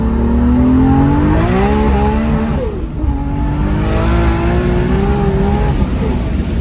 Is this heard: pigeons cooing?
no